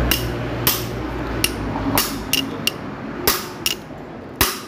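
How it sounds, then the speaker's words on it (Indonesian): Hard metallic clicks while parts of a Honda CB oil pump are tightened, eight or nine sharp separate cracks at irregular intervals over a low background hum, fairly close and loud. "kalau suaranya sudah keras cetak gitu berarti tandanya sudah kenceng"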